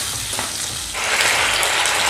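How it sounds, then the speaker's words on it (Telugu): Sauces for restaurant-style chilli chicken bubble hard over a high flame. A quieter hiss swells into a louder, continuous sizzling roar about halfway through, close to the pan, with no talk. "హై ఫ్లేమ్ పెట్టుకొని ఈ సాసెస్ అన్నీ బాగా ఉడికేటట్టు చూసుకోవాలి"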